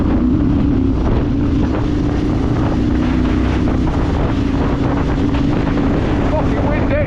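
Strong wind buffets the microphone in a steady, loud roar on a long motorcycle ride to the seaside on a T7, with a voice speaking briefly under the gusts.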